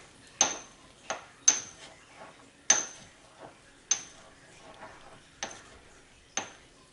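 A pestle works ingredients into a paste in a mortar, giving about eight sharp, separate knocks at an uneven pace, close but fairly quiet, with no talking.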